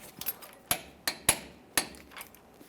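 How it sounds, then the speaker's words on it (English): A torque wrench tightens the front wheel-hub bolts on a 1999-2006 Chevrolet Silverado 1500 to 129 foot-pounds, giving several sharp, close metallic clicks at uneven intervals with quiet between them. "continue on to torquing these to 129 foot-pounds"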